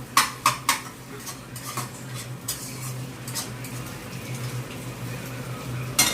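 A metal spatula scraping and knocking at stuck chow mein in a pan, sharp clanks in a quick cluster at first and then scattered scrapes and taps over a low kitchen hum.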